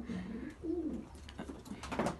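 Pigeons kept for breeding coo softly in a cold loft, several low rolling coos in a row, fairly close, with light rustling between calls and no talk.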